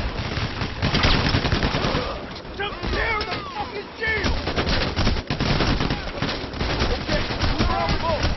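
Rapid gunfire in the video game PAYDAY The Heist, loud repeated shots and bursts through most of the clip, a brief lull midway, with players talking over the shooting.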